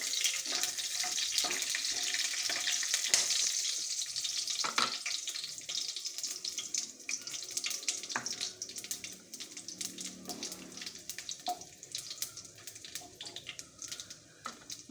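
Whole spices (bay leaf, cumin, dried chilli, cardamom, cloves, cinnamon) fry in hot oil with a close, steady sizzle and dense sputtering crackles, louder at first and easing slightly later.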